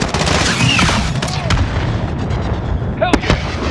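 Heavy artillery and gunfire in a Call of Duty Modern Warfare embassy siege battle, loud continuous booms and shots with whooshing projectiles and a sharp blast near the end, under a dense combat din.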